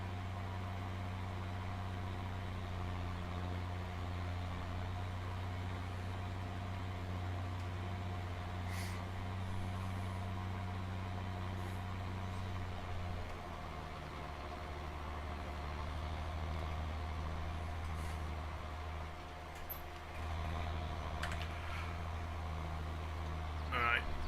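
A farm tractor engine runs steadily while working a field, a constant low droning hum with a slight pitch shift partway through, heard from the cab with faint occasional knocks.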